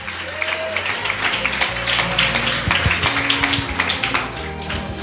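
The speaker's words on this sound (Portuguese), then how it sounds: "Pode bater palmas para Jesus" A church congregation claps hands together in praise during a worship service, a sustained, lively crowd clapping with faint voices mixed in.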